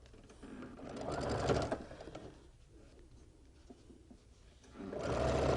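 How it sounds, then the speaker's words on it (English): A sewing machine stitches quilt pieces in fast, whirring bursts, running steadily, pausing to a quiet near-stop, then speeding up again close by. "let's go to the sewing machine"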